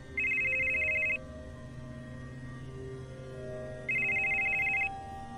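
A telephone rings in a radio drama, two separate bursts of electronic trilling about a second each, set apart by a few seconds of quiet room tone with no talk.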